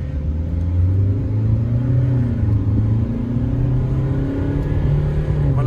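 Hyundai Creta diesel automatic engine under acceleration from inside the cabin, a steady loud low drone that climbs slightly in pitch over several seconds, with no talking.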